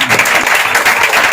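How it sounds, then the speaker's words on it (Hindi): A church congregation bursts into loud, close applause, a brief dense burst of clapping at full volume. "जोरदार तालियां"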